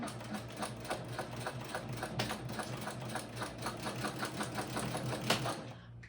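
A sewing machine stitches backpack fabric in a steady, rapid mechanical patter that runs without pause and fades out at the very end, fairly quiet and close, with no voices.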